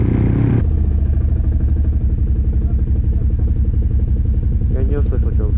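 A Stels Guepard pit bike engine runs steadily while riding through snow at night in a forest during a blizzard. A loud, continuous mid-pitched drone sits close, with voices briefly heard over it near the end.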